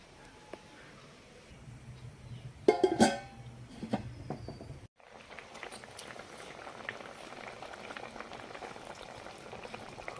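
Fish mango curry gravy bubbles steadily in a pot on the stove, a constant soft simmering hiss close by, briefly interrupted by a clatter.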